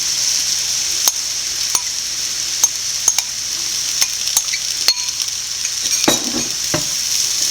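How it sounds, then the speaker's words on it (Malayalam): Cooked chicken filling for chicken puffs is stirred into sautéed vegetables in a frying pan, with a steady sizzle and repeated sharp scrapes and clicks of the spoon against the pan, close and alone with no talk. "നല്ലപോലെ കൂട്ടി യോജിപ്പിക്കുക."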